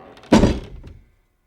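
A single heavy wooden thunk, close and abrupt, like a door banging open, with a short rattling decay afterward.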